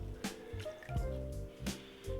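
Water being sponged and drawn out of a clay pot on a pottery wheel, with soft wet squishes, drips and squelches repeating irregularly, close and quiet.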